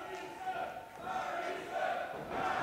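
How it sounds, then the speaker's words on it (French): A crowd at a live wrestling event in Sainte-Anne-des-Plaines chants a wrestler's name in steady rhythmic waves, a dense and moderately distant roar of voices. "La foule qui scande son nom."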